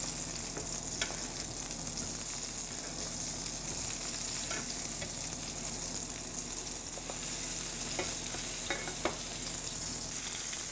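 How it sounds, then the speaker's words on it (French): Pork fillet searing in hot oil in a pan, a steady loud sizzle and frying crackle running throughout, with occasional scrapes and knocks as the meat is turned. "On le tourne doucement de façon à bien colorer toutes les parties"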